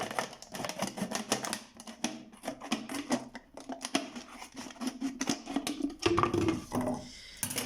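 Scissors snipping through a plastic bottle, a rapid series of sharp, close crunching cuts with short pauses, loud and alone.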